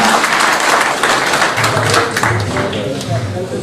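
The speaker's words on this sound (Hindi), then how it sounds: "उनके लिए जबरदस्त तालियां।" A crowd claps loudly in sustained applause at a gathering, dense and close, with a voice speaking over it and the clapping thinning slightly toward the end.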